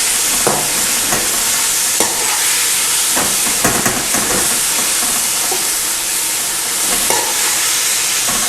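Vegetables and noodles stir-frying in a hot pan with black pepper, salt and spices for chicken chow mein, a loud constant hiss and sizzle broken by periodic scraping stirs, close up with no talking.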